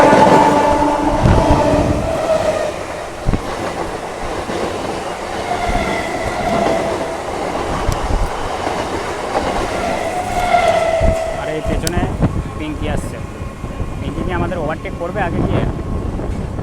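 A local train rumbles and clatters nearby with rail noise and occasional squeals, a continuous heavy mechanical roar as its carriages roll past alongside while entering Howrah.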